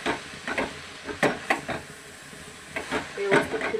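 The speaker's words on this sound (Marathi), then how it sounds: "कढईमध्ये मी आता चवळीची भाजी टाकलेली आहे। ती व्यवस्थित फिरवून घ्यायची" Black-eyed pea curry frying in a kadhai, a soft sizzle under repeated scraping clatters from a stirring spoon, irregular and close.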